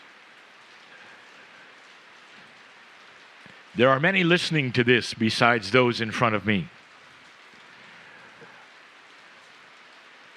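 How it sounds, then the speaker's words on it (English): Steady rain falling as a soft, constant hiss throughout, with someone speaking briefly over it in the middle. "for some of you, you may hear the sound of the rain"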